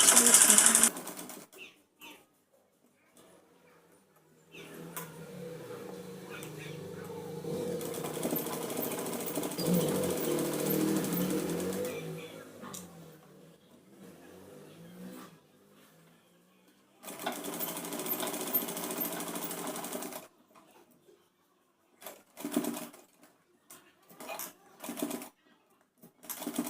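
A sewing machine stitches the back of a Punjabi dress with a half-inch margin. Its whirring runs in long, moderately loud bursts separated by pauses, with someone talking over parts of it.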